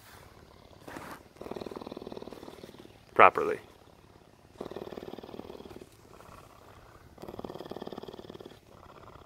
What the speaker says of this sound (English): And it's shaking whenever you purr too, which is kind of funny.